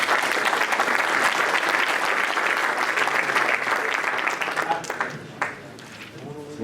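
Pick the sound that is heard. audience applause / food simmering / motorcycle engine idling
audience applause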